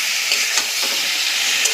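Tomatoes fry in a pan for tomato chutney, a bright, close hiss of sizzling with a few soft stirring scrapes over the short stretch.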